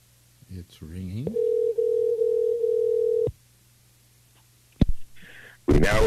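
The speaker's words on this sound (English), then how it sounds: "It's ringing." Telephone call ringing out on a line, a steady tone holding for about two seconds after brief clicks, then silence and a few short clicks and bursts near the end.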